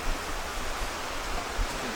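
Water flowing along a canal beside an old mill, a steady broadband rush like a stream, fairly close and even, with no talk.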